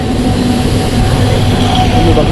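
A train pulls into a busy station on the Diva to Panvel line, with a steady, loud broadband rumble and hum that holds throughout, mixed with faint crowd murmur.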